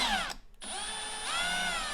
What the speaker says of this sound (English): just going to drill a slight